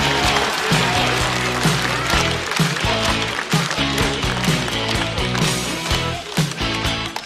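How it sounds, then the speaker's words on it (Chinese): A stand-up comedy audience claps and cheers to welcome a performer, dense applause running throughout over loud, thumping entrance music. "掌声送给岛主"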